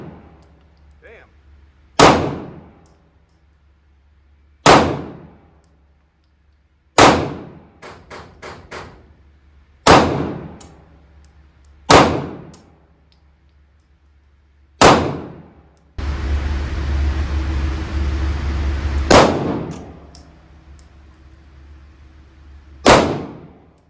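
Glock 43x and Taurus GX4 pistols fired at steel targets: sharp shots each followed by a ringing metallic clang, coming singly at irregular intervals with one quick burst, and a stretch of steady noise partway through.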